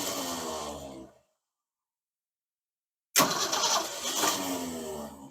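A 1969 Ford Falcon's starter cranks its engine in two loud, strained bursts separated by a few seconds of silence; the starter sounds unhappy and the engine does not catch.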